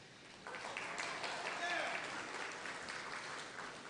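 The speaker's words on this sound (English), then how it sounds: "Round of applause." Wedding reception guests applaud in a hall, a dense wash of clapping swelling in after a brief pause and holding steady before easing slightly, with faint voices and a sharp tone mixed in.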